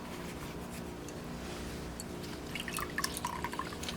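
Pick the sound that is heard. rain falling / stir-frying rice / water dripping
water dripping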